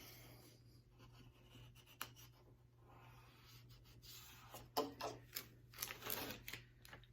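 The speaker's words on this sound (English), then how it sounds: "I'm going to use my scraper and I'm just going to kind of scrape over to the design to make sure that it adheres to the contact paper" A plastic scraper rubs over a stencil pressed onto contact paper for a fall porch sign, making soft scratchy strokes that grow into louder rhythmic rasping passes near the end, close and alone over a low hum.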